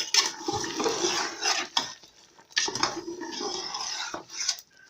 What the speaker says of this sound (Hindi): तो ये हमने अपना चिकन डाल दिया। तो करेंगे मिक्स।